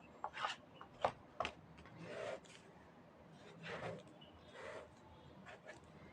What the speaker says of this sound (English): apply a little drop of adhesive and spread out evenly using the scraper